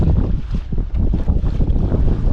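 Strong wind buffets a small fishing boat out crappie fishing, a loud continuous low rumble of gusts against the microphone with water sloshing beneath, steady throughout with no talking.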